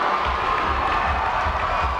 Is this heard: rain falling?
no